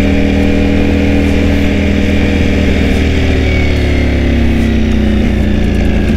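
A Ducati Panigale V4S with a dry clutch idles loud and close, its deep, steady engine rumble accompanied by the distinctive dry-clutch rattle and slight shifts in pitch.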